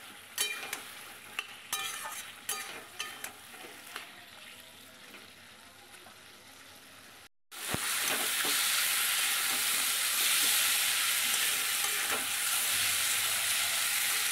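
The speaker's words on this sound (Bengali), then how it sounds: "আর একটু ভালো করে কষিয়ে নেব।" Chopped tomato sautéing in a pan for a mourala fish dish: a few scraping stirs over a quiet simmer, then a sudden loud, steady sizzle after a brief gap, close and continuous without talk.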